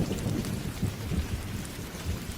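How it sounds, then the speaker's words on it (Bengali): In an animated horror cartoon, low rumbling thunder rolls beneath a steady wash of rain on a stormy night by a graveyard, continuous and fairly close. "দূরে কোথাও বাজ পড়ার বিকট শব্দ শোনা গেল"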